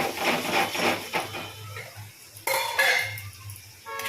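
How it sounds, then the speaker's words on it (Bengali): Fried potatoes go into a pan of cooked spiced masala for a chhana dalna, with clattering metallic scrapes and knocks of a utensil against the pan in short bursts, close and fairly loud. "ভাজা আলুগুলো এবার দিয়ে দিচ্ছি"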